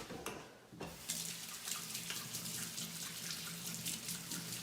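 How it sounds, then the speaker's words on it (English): Tap water runs steadily into a sink as hands are washed, a continuous close splashing hiss after a brief clatter at the start, with no talking. "I'm going to wash my hands"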